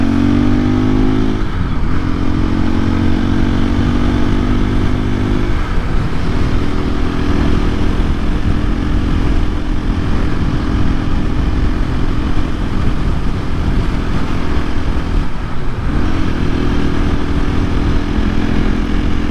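A 2024 KTM EXC-F 500 Six Days dual sport motorcycle held in fourth gear through a slow turn, its engine droning loud and steady with small dips in pitch as the throttle eases and rolls back on.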